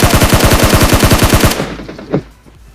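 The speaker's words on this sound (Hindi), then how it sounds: "तभी ये बंदा हमारे ऊपर गोली चलाता है" Rapid automatic gunfire in a shooting video game: a fast, loud run of about fourteen shots over a second and a half, followed by quieter ambience and one further isolated shot.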